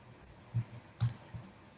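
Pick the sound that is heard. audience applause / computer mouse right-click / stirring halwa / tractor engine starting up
computer mouse right-click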